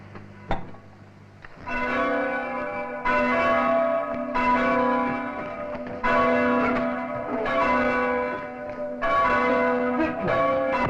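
Church bells ring out on a Saturday night in a 1960s drama, a steady peal of resonant strikes roughly every second, loud and sustained with overlapping decaying tones.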